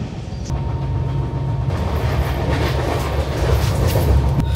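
A passenger train on the Shalimar to Sambalpur run gives a loud, continuous rumble with steady wheel and carriage noise, heard from on board with no talking.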